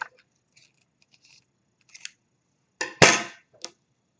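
Scissors snip through yarn while crocheting, a couple of faint clicks and then a louder crisp cut near the end, followed by one short snip, with no talking.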